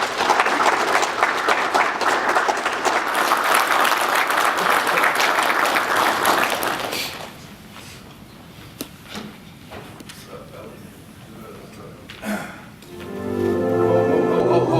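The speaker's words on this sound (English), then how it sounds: "let's give him a nice round of applause" Applause at a university football team gathering as a guest speaker is brought up, dense clapping for about seven seconds, then a quieter room with scattered knocks before a voice begins speaking.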